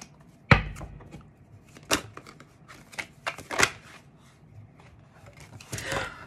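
Tarot cards are shuffled by hand in a quiet room, a series of soft irregular riffling and tapping bursts with pauses between them, close and faint, with no talking.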